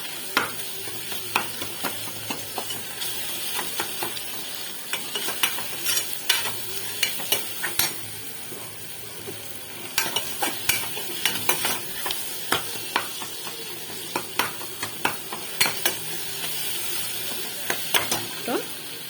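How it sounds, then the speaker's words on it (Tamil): Tomatoes and soaked chana dal sauté in a pan for mutton boti gravy, giving a steady close sizzle broken by frequent sharp scrapes and clicks of a spoon against the pan. "நல்லா இந்த பச்சை வாசனை தக்காளி எல்லாம் நல்லா வதங்கி வரட்டும்"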